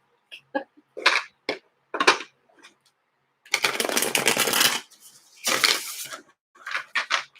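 Tarot cards are shuffled up close: a few light taps, then two longer riffling bursts of cards flicking together, with short pauses in between.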